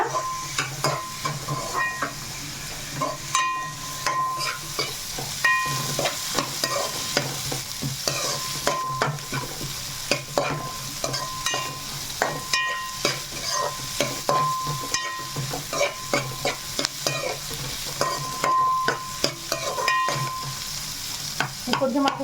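Chicken fries in a pan for a masala gravy curry, with a steady sizzle under frequent scraping and stirring clinks that keep a loose, busy rhythm throughout.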